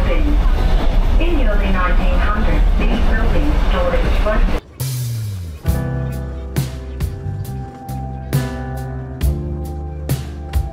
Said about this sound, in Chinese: 火车开的也不快，从那个凯恩斯的市区开过来，速度还挺快的。